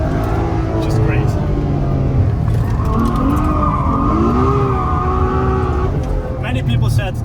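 Ferrari F12 sliding sideways with tires squealing in long wavering tones over a loud engine roar, heard from inside the car while someone talks throughout.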